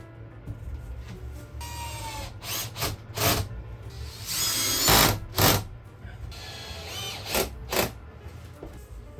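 Power drill driving screws into a lightweight campervan wall panel, heard as a series of short whirring bursts of varied length, one longer run in the middle, close and fairly loud.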